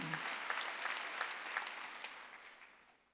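A church congregation at a Wednesday service breaks into brief, brisk applause that tapers off over a few seconds.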